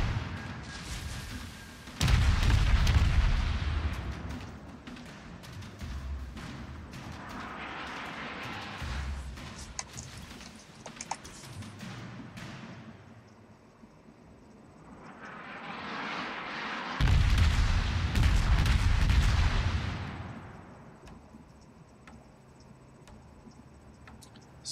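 Naval gun salvos in World of Warships: three heavy, deep booming volleys spread out over time, each swelling and fading with a long rumbling tail, and quieter ambience between them.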